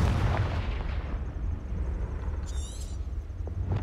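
A Confringo blasting spell detonates in Hogwarts Legacy, a booming, rumbling explosion with a rough low-heavy burst that rolls on through the clip, followed by a brief shimmering magical chime.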